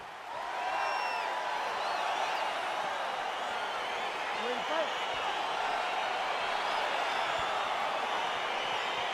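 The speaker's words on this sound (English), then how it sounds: "crowd getting excited as this fight gets underway" A large UFC 294 arena crowd roars steadily as the Chimaev versus Costa fight gets underway, a dense, sustained wash of cheering and shouts with a few whistles rising above it.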